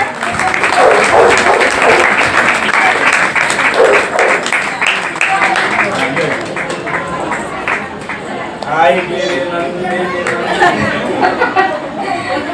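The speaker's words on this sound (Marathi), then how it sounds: "जोरदार टाळ्या चालू राहू दे" An audience clapping loudly for a young child placed in a shloka recitation contest in Barshi, with sustained applause mixed with crowd chatter and voices talking over it.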